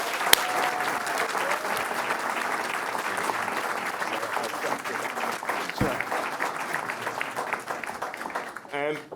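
Warm, sustained applause from a conference audience at a UK Black business entrepreneurs event welcoming Wilfred Emmanuel Jones, the Black Farmer; steady crowd clapping with a few sharp knocks, fading near the end.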